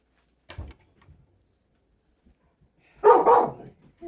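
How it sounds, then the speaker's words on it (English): Dog named Pepper barking: a faint single bark early on, then a louder pair of quick barks near the end, indoors with quiet stretches in between. "He likes to bark at everything that he hears"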